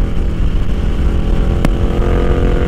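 A Ducati Diavel 1260 motorcycle on a solo ride, its engine a loud steady rumble mixed with rushing wind, plus one brief sharp click partway through; no one speaks.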